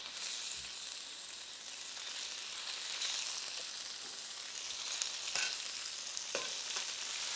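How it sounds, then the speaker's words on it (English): Chicken stir-frying in hot oil in a wok, a steady broad sizzle and hiss running throughout with a few faint scrapes and clacks of stirring, close and continuous with no talk. "we want to cook the chicken in batches because we don't want it to stew in its own juices"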